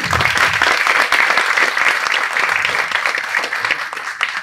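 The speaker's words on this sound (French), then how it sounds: "Et on peut déjà l'applaudir très fort." Audience applause fills a small conference room at a café talk on project financing, steady and dense clapping throughout with no voices over it.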